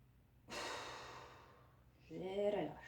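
Two deep, audible breaths come during a qi gong exercise for the lungs and liver. A long airy breath is followed by a rougher, more voiced one, both close and clear in a quiet room.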